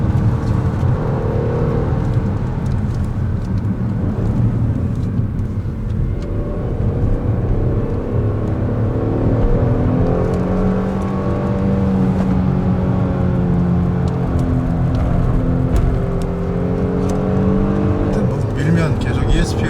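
A Kia Stinger 3.3 GT is driven hard on a mountain road, with a steady, loud engine drone whose pitch rises and falls through the run. Someone talks over it the whole time.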